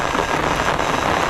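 Heavy typhoon rain pours down in a dense, loud, continuous hiss and patter on surfaces, with no voices.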